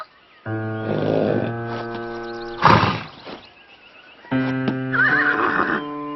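A horse whinnies loudly twice up close, separated by snorting breaths and a few soft thuds.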